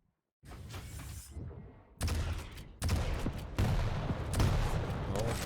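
Rocket launches and weapon fire in an arena shooter duel, a dense rumbling barrage that starts suddenly and swells in loud stepped bursts, with faint talk mixed underneath.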